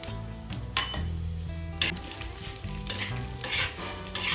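Cumin, ginger and garlic fry in oil in a pan, making a loud close sizzle. Several sharp clinks of a spoon against the metal pan break through it as the spices are stirred.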